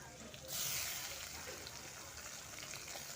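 Onion, green chili and tomato sizzle in a pan for a Bengali fish curry, with a sharp burst of frying as the tomato goes in, then a steady, fairly quiet hiss.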